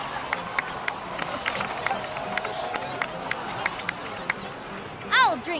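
Crowd in the video game Genshin Impact applauding and cheering, scattered distinct claps over a steady murmur of crowd noise, with a short voice sound near the end.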